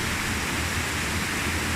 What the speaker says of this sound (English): focus on the sound of the waterfall again